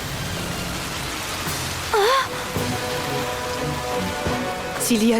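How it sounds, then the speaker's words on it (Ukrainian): Steady rain patters on trees in a continuous hiss, with a few brief tonal chirps rising over it, in an animated cartoon. "Хай пролється дощ на ці дерева."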